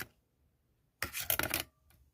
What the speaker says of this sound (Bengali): আলুটাকে খোসা ফেলে এরকমভাবে ঘষনুন দিয়ে ঘষে নিয়েছি